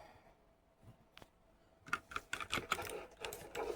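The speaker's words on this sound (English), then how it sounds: "As you can probably hear, I'm on a keyboard now." Computer keyboard keys clatter in a quick, uneven burst of clicks during Fortnite play, preceded by a couple of isolated taps, close and moderately loud with no talk.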